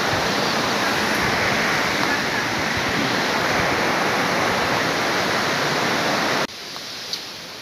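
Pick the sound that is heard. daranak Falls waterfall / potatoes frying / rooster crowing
daranak Falls waterfall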